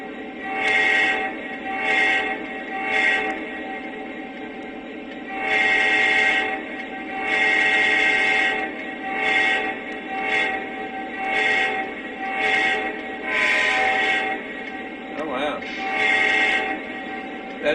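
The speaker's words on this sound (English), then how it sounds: "let's check out the all-important horn." A Lionel Legacy ES44 GEVO model locomotive horn sounds in a series of short and longer blasts, steady and fairly loud, with brief gaps between them.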